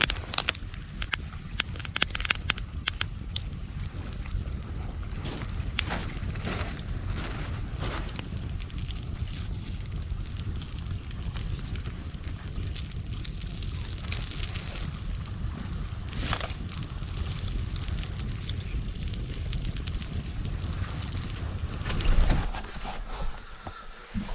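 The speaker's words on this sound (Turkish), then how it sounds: "Az önceki ateşimizi de harladık arkadaşlar." Campfire crackling at night at a lakeside fishing camp, with sparse pops and snaps over steady broadband noise and a wind-like rumble throughout, brief louder bursts scattered across the clip.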